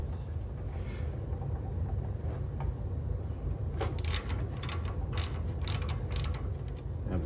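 A ratchet wrench works on brake caliper bolts of a Ford F-250 during rear brake backing plate replacement; low mechanical rumble with a run of quick, sharp clicking bursts in the second half.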